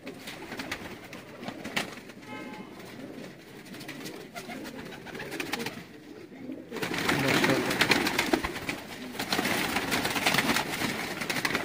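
Sialkoti and golden pigeons coo in soft repeated phrases over a rooftop din, the background growing louder and busier partway through.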